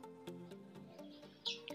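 A white sinom collared dove calling, a soft, fairly distant run of repeated cooing notes with steady pulses and a few brighter chirps near the end.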